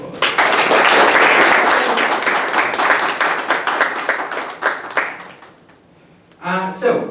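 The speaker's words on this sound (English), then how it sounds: "Please give her a round of applause." Audience applause at a student English speech contest, loud dense clapping from many people that gradually thins and fades, followed by a short burst of speech.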